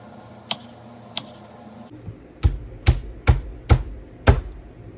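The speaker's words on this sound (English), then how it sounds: "I'm just gonna cut them lengthwise, like so." A kitchen knife cuts vegetables lengthwise on a cutting board: two light taps, then five firm, evenly spaced chops, close and crisp.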